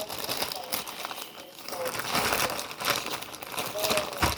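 Romaine lettuce leaves are pulled off and handled in a restaurant kitchen, giving a close, continuous crinkling and rustling with crisp snaps throughout the short stretch.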